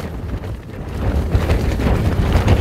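Extreme storm wind on a mountain roars and buffets against the microphone, a dense low rumble that swells stronger after the first second and keeps gusting steadily.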